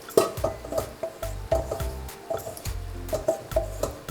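Chopped tomatoes poured into a hot pan with ginger, spring onions and basil for a vegetable stew, giving soft wet sizzles and a series of irregular squelching, stirring thuds close by.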